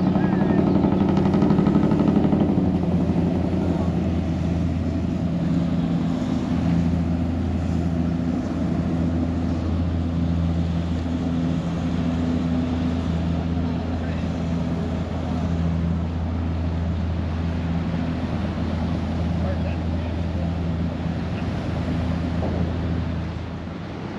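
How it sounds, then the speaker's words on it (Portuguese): A steady motorboat engine drones throughout on a river port trip between Aninduba and Santarém, Pará, Brazil, a low rumbling hum with wind noise, holding fairly loud and constant before easing slightly at the end. "Tá chegando mais uma lancha."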